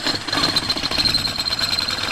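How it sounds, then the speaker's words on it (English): A power drill grinds steadily through metal with a chipped 5/8 inch bit, enlarging a hole on an off-road vehicle build, a harsh continuous buzz with a thin high whine above it. "So I'm gonna drill it out to 5/8"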